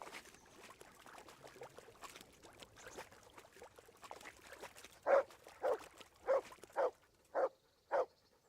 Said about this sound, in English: What are you barking about, Matt?